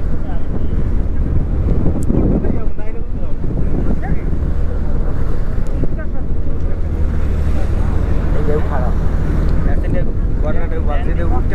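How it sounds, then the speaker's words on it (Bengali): Rough waves churn on the Payra river at Taltali under heavy wind buffeting, a constant loud wash from a boat on the water, with people talking over it. "ভয়াবহ ঢেউ তো"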